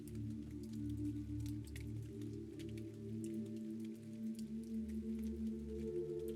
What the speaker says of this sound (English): Listen to the soothing sound of the rainfall